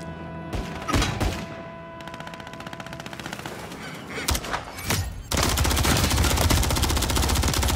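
SMG fire in a shooter video game, with short bursts and single cracks followed by a long, loud, continuous stream of rapid automatic shots.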